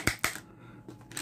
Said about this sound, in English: And I do not like that clicking sound, because it's not supposed to do that.